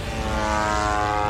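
An attack drone flies over Moscow, a loud steady propeller drone with a sustained buzzing whine and constant engine tone, close and unbroken throughout.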